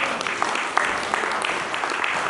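A congregation applauds the Lord during a church sermon, steady dense clapping from many hands that fills the space at moderate volume, with no speech over it.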